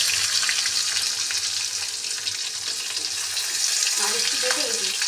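Whole garam masala and chopped onion fry in a pan for egg curry, giving a loud, dense sizzle that holds steady throughout, with faint clinks near the end and no talking.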